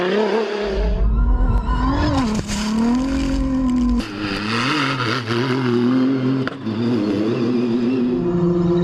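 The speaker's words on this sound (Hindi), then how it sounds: "सऊदी अरब में ढाका रैली का चौथा रोज कार और मोटरसाइकिल ड्राइवर्स ने सहरा में अपनी महारत का खूब मुजाहिरा किया।" Rally cars and motorcycles race on a sandy desert track on day four of the Dakar Rally in Saudi Arabia. A loud, continuous engine roar shifts pitch as the vehicles rev and accelerate close by.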